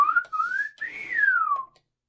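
A toy droid souvenir from Disney World lets out a single electronic whistle that glides up, levels off, rises again and falls, close and clear before cutting off into silence.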